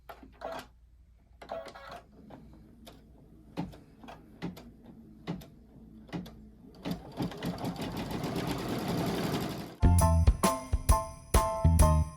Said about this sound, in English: I am going to start the quilting for the second half.